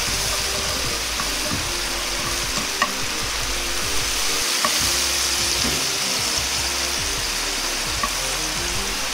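Onions fry loudly in a wok for black fried rice, a steady dense sizzle with stirring scrapes and clanks throughout, as a splash of Shaoxing wine or sake goes in; no talking.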